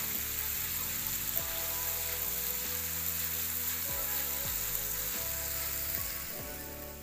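Garlic ginger paste sizzling in oil while it browns in a pan for a chicken dish, a loud, dense, continuous crackle heard up close with no talk, easing slightly at the end.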